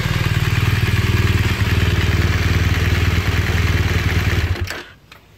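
A brand-new 2017 BMW R1200RS motorcycle idling close by early in the morning, a loud, steady thumping engine beat that holds for several seconds, then cuts off abruptly and leaves near silence.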